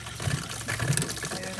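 Pink antifreeze water runs from a faucet on a Casita travel trailer, a soft, close, bubbling trickle and gush lasting a moment.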